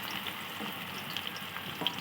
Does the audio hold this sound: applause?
no